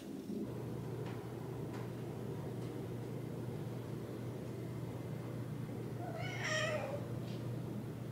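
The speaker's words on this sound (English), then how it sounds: "This is the cat that my neighbors down the road feed and take care of." A cat meows once, a fairly close, drawn-out call near the end, over a constant low household hum and faint background noises.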